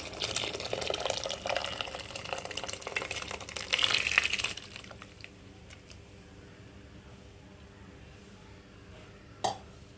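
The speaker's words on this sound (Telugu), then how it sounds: "నాలుగు గంటల ముందు మనం నానబెట్టుకున్నాం కదా సగ్గుబియ్యం వాటర్ కూడా ఉంది వాటర్ తోటే వేసేసుకోవాలి" Soaked sago is tipped along with its soaking water into a pot of boiling water, giving a close gushing pour for about four seconds that fades into faint bubbling, with one sharp clink near the end.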